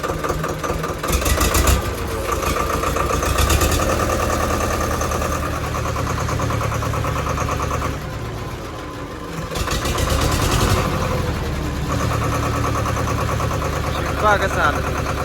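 A tractor fitted with large monster tyres idles steadily and loudly with a continuous, slightly knocking engine rumble, while people talk over it.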